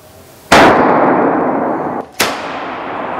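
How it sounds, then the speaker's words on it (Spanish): Two loud gunpowder explosions from an art performance at the Museo del Prado in Madrid, the first followed by a long roaring rush that slowly fades, the second cutting in sharply just after. "Esta explosión forma parte de la obra del artista chino Cai Guoqian"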